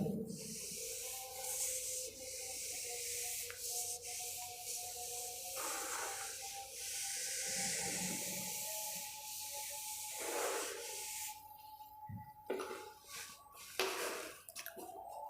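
A duster or cloth rubbing chalk writing off a classroom board during a Class 10 physics lesson, long scraping and brushing strokes that repeat in bursts, close and fairly loud, with no talking.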